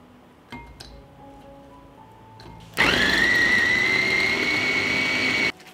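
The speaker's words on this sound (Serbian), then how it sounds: "I iseckanu papriku usitnit ću u secku." A food chopper whirs loudly for about three seconds, mincing chopped peppers, after a few light clinks as it is set up.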